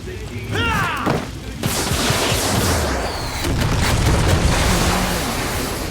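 Explosives blowing up tagged enemies in Far Cry 6 boom in heavy, rumbling bursts, with a sharp blast early on and the rolling roar of detonations and debris filling the rest.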